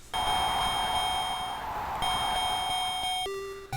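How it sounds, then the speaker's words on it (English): Bell chime from the NES boxing game Punch-Out, a steady electronic ringing tone with sharp harmonic tones that holds for about three seconds, then shifts pitch briefly near the end, loud and alone. "I instantly popped in the game and heard those bells ring."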